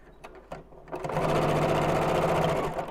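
Domestic sewing machine stitching a fabric bag: a few short bursts of needle chatter, then a steady, loud, continuous run of stitching held close to the microphone, easing off at the end.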